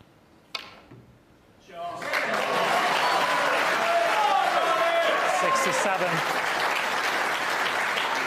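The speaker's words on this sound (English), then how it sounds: "And beautiful act of sportsmanship there, clapping for Ronnie O'Sullivan." After a brief quiet moment, an audience at the 2020 snooker championship final bursts into loud, sustained applause that fills the hall, with a commentator's voice faintly over it.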